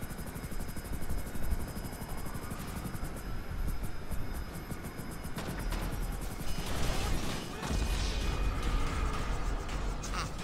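A Hunter attack helicopter in the video game GTA 5 flies with a loud, continuous rotor thump and engine roar, rising and shifting with bursts of noise and other game sounds throughout.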